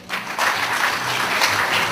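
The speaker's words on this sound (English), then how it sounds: "A round of applause for the hard-working brother Israel," A crowd breaks into applause for a man named Israel, the clapping starting abruptly and continuing as a steady, fairly loud patter with occasional sharper peaks.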